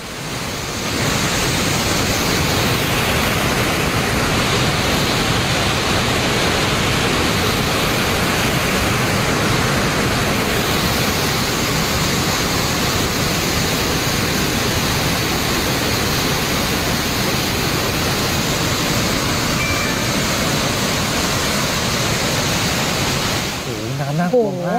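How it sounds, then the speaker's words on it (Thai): A flash flood of muddy water roars down a stream in Ban Li Khai, Nang Lae, Chiang Rai, a loud, unbroken rushing wash that holds steady for the whole stretch. "น้ำไหลลงมานะฮะลงตามลำห้วยแล้วก็ทะลักพื้นที่ลุ่มต่ำด้านล่าง"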